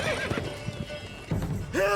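Roach, the horse in The Witcher 3 video game, neighs loudly in several rising whinnies at close range, with hoof clip-clops in between.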